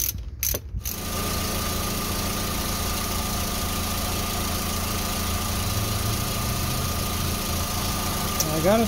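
VW New Beetle engine started after a melted fuse box repair: a brief cranking burst at the start, then a steady close idle with a rhythmic mechanical hum and faint voice near the end.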